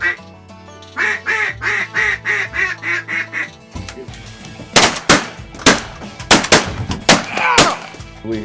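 Duck hunting outdoors: a run of rhythmic duck quacks gives way to several sharp, loud gunshots fired in quick succession, with more quacking mixed between the blasts.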